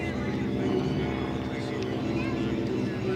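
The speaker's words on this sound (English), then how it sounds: "That airplane was actually a crop duster." A Stearman biplane, a former crop duster, drones overhead at an air show, its steady engine and propeller sound continuous and fairly loud, with people talking over it.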